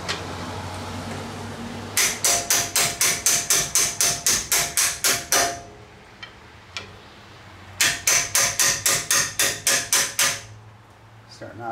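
A hammer strikes metal in two fast, steady bursts of about a dozen ringing blows each, knocking out a bushing on a Ford TTB front suspension, loud and close, with a few scattered taps between.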